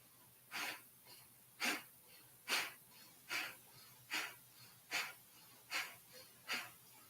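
Slow, deliberate breathing exercise, about nine airy breaths in and out in a steady rhythm, each a soft hissing puff, close and quiet with no speech.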